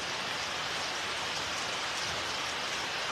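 Heavy rain pours down steadily on a livestock farm, a dense, loud, unbroken hiss of drops on surfaces with no voices over it.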